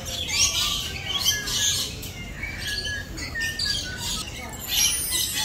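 A blue-fronted Amazon parrot at a bird park gives repeated harsh squawks and short chirps at moderate distance, with faint voices talking in the background.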